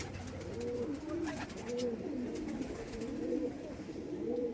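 Madras pigeons coo repeatedly in low, rolling, wavering calls, a steady series of soft murmurs close at hand.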